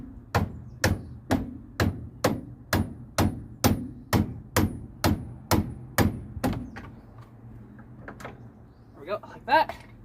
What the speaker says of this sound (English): I might just need the hammer just to get it in there.